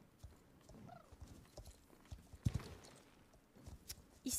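Pony hooves clip-clopping in the Star Stable Online horse-riding video game, a steady light trot of hoof clicks over a soft ambient game background, with a sharper louder hit midway.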